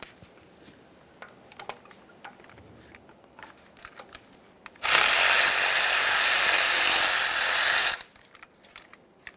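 A power tool whirs loudly for about three seconds, loosening a 12mm bolt from an engine bracket on a 2012-2015 Honda Civic 1.9L. Quiet metallic clicks and handling come before and after it.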